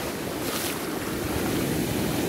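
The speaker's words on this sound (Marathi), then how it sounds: "किनाऱ्याला लगत येऊन अशा फेसाळलेल्या लाटा फुटत आहेत." Continuous roaring wash of surf breaking close by, dense and loud, mixed with wind buffeting, no voices.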